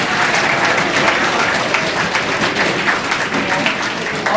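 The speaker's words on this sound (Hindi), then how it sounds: "सर के लिए एक बार तो जोरदार तालियां होनी चाहिए।" A crowd claps loudly and steadily at a student prize ceremony held by a coaching institute, a dense continuous wash of applause lasting the whole stretch with a faint murmur of voices beneath.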